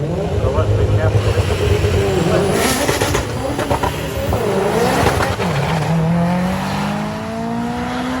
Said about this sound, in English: Another one of them diesel trucks.